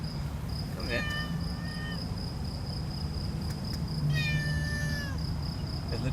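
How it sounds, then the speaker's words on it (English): A cat meows close by twice, long drawn-out cries, over a constant high insect or cricket whine and low background rumble, in Abu Dhabi. "It's literally meowing in the microphone."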